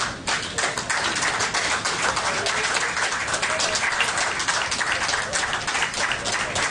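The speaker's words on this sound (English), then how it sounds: "let's have a round of applause please again for Simon Ward" Warm, sustained applause from a tournament audience greeting winner Simon Ward at an IPA Tour pool event in Warwick, a dense steady clatter of many hands that fills the whole stretch without pause.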